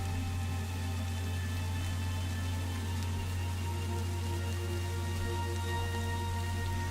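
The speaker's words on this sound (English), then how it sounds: "Nah, it's just rain." Rain falling in Minecraft, with the Minecolonies mod installed, as a steady, even hiss of drops, fairly quiet and unbroken, over a constant low hum, with no voices.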